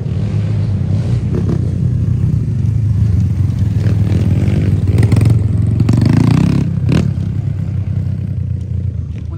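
Off-road dirt bikes of mixed sizes, from 125s to 190s, ride a dirt track, giving a loud, continuous engine roar that swells and revs with passing bikes and occasional clattering.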